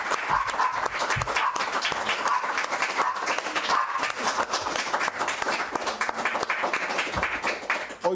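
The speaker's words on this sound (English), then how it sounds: "An applause for the Messiah, human bride of Yahweh." Congregation applauding at a New Year and Hanukkah worship gathering, dense continuous clapping that holds steady and fairly close throughout.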